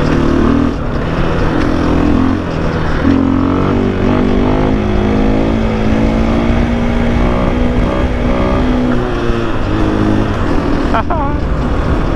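A 2021 KTM 500 EXC dirt bike engine revs hard and climbs in pitch as the front lifts into a power wheelie, loud and close with wind rush, easing off near the end.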